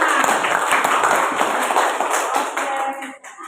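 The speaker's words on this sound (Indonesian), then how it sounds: "Berikan tepuk tangan" A classroom of students claps together in a brisk, dense round of applause that holds steady and then tapers off near the end.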